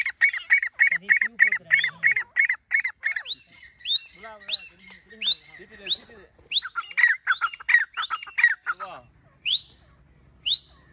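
Birds squawk and honk loudly in rapid repeated calls, a goose-like series at first and then irregular harsh squawks, close by, with faint voices underneath.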